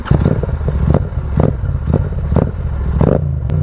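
A Royal Enfield Continental GT650 motorcycle idling and blipping, a steady deep burbling exhaust note with rhythmic throttle pulses roughly every half second, loud and close throughout.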